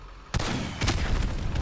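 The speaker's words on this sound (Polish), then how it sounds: "A, czyli jednak są eksplozje." Explosions in Call of Duty: Modern Warfare Remastered, a sudden loud blast after a quiet moment followed by rumbling bursts and another heavy boom, dense and close.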